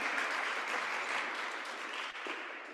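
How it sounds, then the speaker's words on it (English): Audience clapping at an International Development Week panel on nature-based climate adaptation, a dense, steady burst of applause from a crowd, fairly even in loudness, with no talking over it. "let's give a big round of applause."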